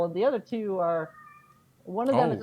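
A house cat meows loudly and close by in long drawn-out cries, two calls early and another near the end, while a person talks between them.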